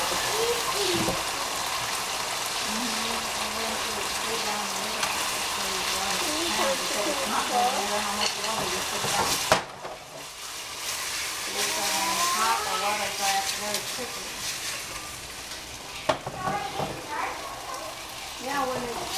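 Chicken in sauce sizzles and fries steadily in a pan with a continuous crackling hiss, close up, with a few clanks and stirring sounds and a person talking over it.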